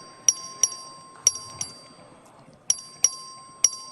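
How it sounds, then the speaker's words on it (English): A legislative chamber bell rings in sharp, bright strokes for a record vote: seven quick metallic dings in irregular pairs and singles over a steady electronic tone and a faint murmuring room. "The clerk will ring the bell."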